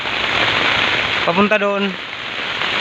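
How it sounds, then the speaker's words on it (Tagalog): Heavy typhoon rain from Typhoon Neneng pours steadily beside a national highway in Cabugao, Ilocos Sur, a dense continuous wash of drops on surfaces, with someone speaking briefly partway through. "Lakas ng ulan."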